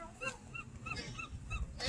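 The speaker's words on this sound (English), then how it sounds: "noisy seagulls" Distant gulls call repeatedly in short, nasal cries over a low outdoor rumble, several birds overlapping at a moderate distance, on the beach at Seaside, Oregon.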